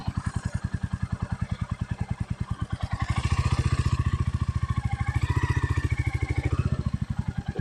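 A Royal Enfield Meteor 350 motorcycle idles close by with a steady, thumping single-cylinder beat that swells louder midway as the clutch is worked, then settles back, with faint clatter underneath.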